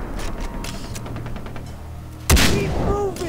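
Gunshots ring out in the open-world shooter Far Cry 3, a run of quick rattling shots followed by one loud, close blast that rings off and echoes.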